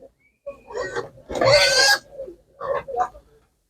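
Pigs at a livestock market, Landrace breed among them, give grunts and oinks, one loud squealing burst in the middle and shorter grunts after, close by with quiet gaps between.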